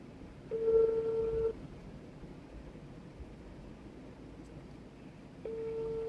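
A phone ringback tone sounds: a steady electronic tone lasting about a second, a pause of several seconds, then the tone starting again, fairly faint.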